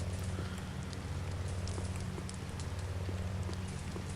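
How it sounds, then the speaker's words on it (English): Steady rain falls in the Star Wars Jedi Knight: Jedi Academy video game, a dense continuous patter over a low hum, with scattered drop ticks. In the game, the rain sizzles off a lightsaber blade. "because it's raining here, you'll constantly be seeing like the rain like sizzling off the blade of the lightsaber"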